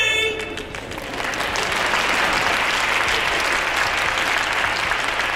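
Audience applause at a live comedy show, opening with a brief trailing voice before a full, loud, sustained roar of many hands clapping that holds steady to the end.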